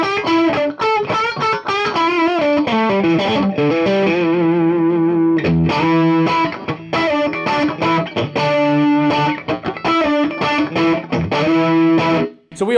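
A Fender Custom Shop Stratocaster in pickup position 2, with a bright, nasal, quacky tone, plays a rhythmic sequence of chords and single notes, close and clear, with no voices.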